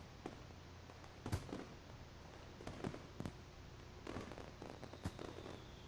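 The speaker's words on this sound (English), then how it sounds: "With faint pops, fireworks begin to go off in the sky" Faint fireworks popping in the sky, a scattered series of soft bursts at irregular intervals, distant and quiet with no talk.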